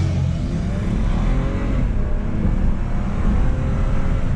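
A BMW 328xi E90 Sport Package with all-wheel drive and about 160,000 miles pulls hard under acceleration, its engine a loud, continuous roar heard from inside the car, with no talking.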